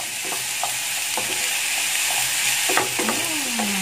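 Young corn and meatballs are stirred as they stir-fry in a pan, making a dense, even sizzle with a few short clinks and scrapes from the utensil, close and fairly loud with no talking.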